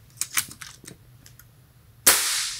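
A single sharp, loud shot from an FX Wildcat MKIII high-power airgun fired at a close target about four feet away. It cracks suddenly after a stretch of faint clicks and handling noises, and a brief ringing decay follows.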